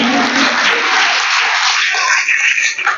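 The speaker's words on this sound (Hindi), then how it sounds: "तालियों से स्वागत करें" A crowd applauds continuously at a school award ceremony honoring girl students, a dense wash of clapping that stays loud and fades slightly toward the end.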